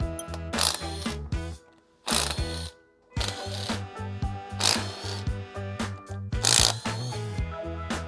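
A ratchet clicks rapidly in repeated bursts, with short pauses between them, while bolts are removed from an aluminum LS 5.3-liter engine. The sound is close and loud, and no one speaks.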